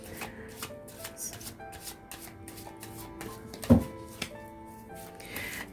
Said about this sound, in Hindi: मैं इन कार्ड्स को शफल कर रही हूँ